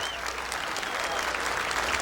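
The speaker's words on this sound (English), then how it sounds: "he will hear this same applause in tribute of a 5 times master champion" Sustained applause from a large golf gallery in tribute to a five-time Masters champion, steady and dense throughout, with no voices standing out.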